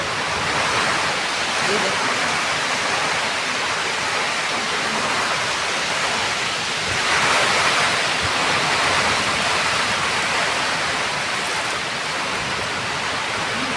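Strong wind drives heavy rain in a dense, unbroken rush of noise that swells briefly partway through and stays loud and close from start to finish.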